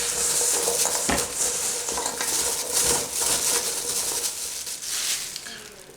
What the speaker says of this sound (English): Just get it mixed well.